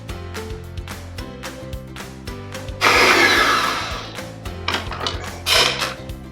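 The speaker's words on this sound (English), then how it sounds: "We start off by creaming our sugar and butter on medium speed until light and pale." A stand mixer creams sugar and butter on medium speed, its whirring, grinding motor noise rising partway through and holding steady over rhythmic background music.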